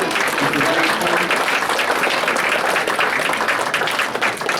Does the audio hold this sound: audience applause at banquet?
yes